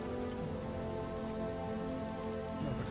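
Steady rain pours across the battlefield in the Pacific war strategy game Strategic Mind: The Pacific, a dense, even hiss of drops on surfaces that holds at constant loudness with no voices.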